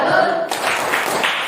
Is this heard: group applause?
yes